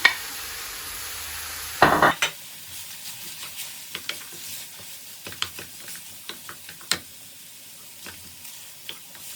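A loud clatter as chopped onion drops into a hot pan with minced meat, followed by steady sizzling and frying with occasional scraping and stirring sounds.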